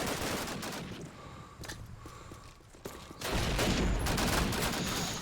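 Rapid automatic gunfire from the video game Call of Duty: United Offensive, played in a competitive tournament final, rattles in bursts that thin out midway, then swells into a dense, loud volley.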